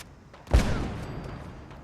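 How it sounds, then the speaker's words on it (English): A single deep boom from a China Lake grenade launcher mod in Fallout 4 hits sharply and then tails off in a long rumbling decay. "A lot of explosions happened."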